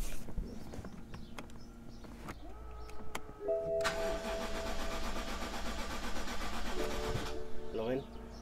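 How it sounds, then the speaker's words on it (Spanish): A 2011 BMW X5 engine cranks briefly and catches, then runs at a steady idle with a hum from the fuel pump, all close by; a voice speaks over the running engine. "en cuanto abres la llave, la bomba se queda trabajando y hay arranque."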